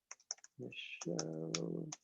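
Quick clicking keystrokes on a computer keyboard as a name is entered into a web app, scattered taps between and over a person talking close by.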